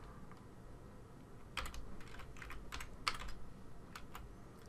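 Quiet typing on a computer keyboard: a few scattered key taps, then a short burst of quick clicks and a couple of sharper keystrokes, close and faint over a soft room hiss, with no voices.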